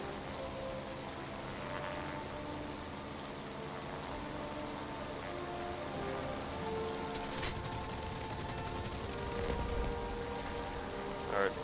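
Bursts of machine-gun fire rattle through the roar of aircraft engines in a War Thunder air battle against a B-17 bomber, at a moderate level and with no talking.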